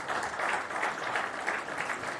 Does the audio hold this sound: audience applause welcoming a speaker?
yes